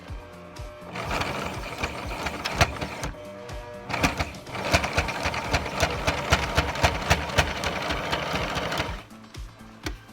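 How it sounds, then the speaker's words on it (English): Sewing machine stitching steadily along the edge of a cloth diaper, a close, busy whirring hum with brief pauses near the start and at the end. "So just keep sewing along the edge until you get to that point."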